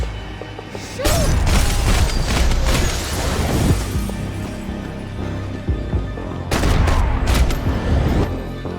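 Heavy gunfire in Max Payne 3, with dense bursts and booms that come in two loud waves and a quieter stretch of mechanical clatter and impacts between them.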